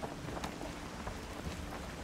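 Steady wind rushing and buffeting in the video game Valheim, a constant broadband roar with occasional gusts, no voices.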